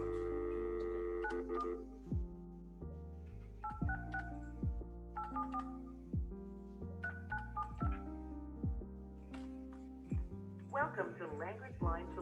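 A courtroom telephone dials a language interpreter service line, producing a rapid series of electronic keypad tones, some of them sliding, that run steadily for several seconds.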